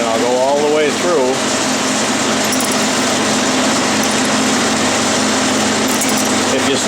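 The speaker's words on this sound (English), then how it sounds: "Now I'm drilling 1/4 inch, and I'll go all the way through." A metal lathe drills a 1/4 inch hole through a pulley using a drill held in a number 3 tailstock, giving a steady, loud, continuous machining whine with a constant motor hum. A voice is heard briefly at the start.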